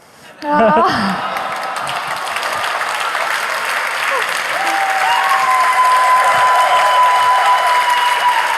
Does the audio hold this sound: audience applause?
yes